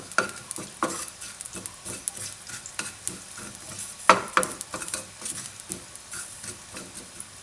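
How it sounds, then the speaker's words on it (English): Curry leaves dry frying in a pan, crackling and popping with repeated stirring scrapes and occasional utensil clinks against the metal, close and fairly steady. "now we're going to add in the curry leaves. So I'm just going to, for about 30 seconds, just dry fry these as well"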